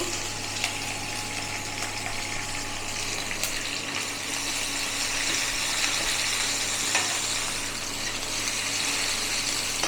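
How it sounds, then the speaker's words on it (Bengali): Garlic and capsicum fry in mustard oil in a steady, close hiss that carries on evenly, with a few faint clicks from stirring and a low hum beneath. "ক্যাপসিকাম রসুন ভেজে নেব"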